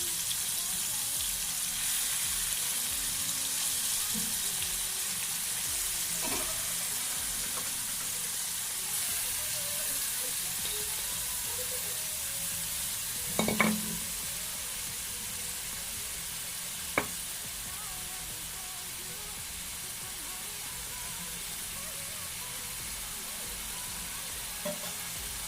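Marinated chicken for biryani fries in a pot with a steady low sizzle and hiss, broken by an occasional scrape or clink of a stirring spoon, continuous and fairly quiet.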